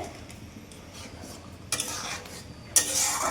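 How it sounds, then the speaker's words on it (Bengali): Garam masala is stirred into simmering pointed gourd curry gravy, with a spoon scraping and clinking against the pan in a few short bursts and a brighter knock near the end. "এবার গরম মশলা দিয়ে দিলাম, দিয়ে দিলাম, মিশিয়ে দিলাম ঝোলের মধ্যে।"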